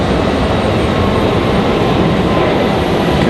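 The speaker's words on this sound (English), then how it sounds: "Here goes Delta to Boston at A220-300." A Delta Airbus A220-300 jet departs Raleigh-Durham for Boston, a loud, steady broadband engine roar filling the whole moment without voices.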